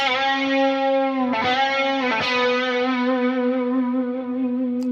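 A distorted electric guitar note sustains, then bends upward in pitch with a couple of pick attacks, ringing out steadily and loudly.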